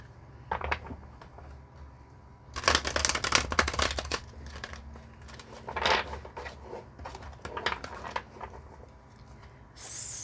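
Tarot cards riffle and shuffle in quick bursts of crisp papery flutters, with softer handling rustles between, close up and fairly quiet.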